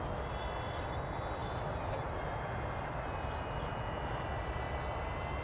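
An E-flite M7 Maule radio-controlled model airplane flies in cold winter air, its small electric motor a faint, steady distant drone with a thin whine held throughout, no voices over it.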